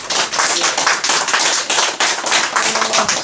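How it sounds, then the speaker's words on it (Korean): Audience clapping after a lecture on filial-piety education in schools, a loud, dense burst of many hands with steady rhythmic pulses, close and sustained for the whole stretch. "힘찬 박수 부탁드립니다."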